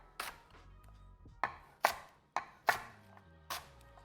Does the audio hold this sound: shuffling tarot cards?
no